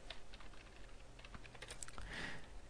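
Quick, light clicking of keys as C code for a loop is typed on a computer keyboard, close and quiet, in an otherwise silent room.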